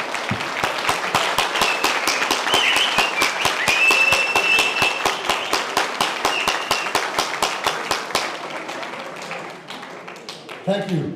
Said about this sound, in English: I'd like you to give a big applause to everybody who assisted, who came to this event.